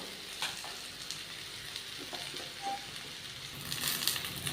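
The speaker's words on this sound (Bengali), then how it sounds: "আর বেগুনটা ছেড়ে দেবো আর লঙ্কা ছেড়ে দেবো।" Eggplant, raw banana and green chilli frying in a pan for a mixed vegetable dish, a moderate close sizzle with occasional stirring scrapes and clinks, no talking.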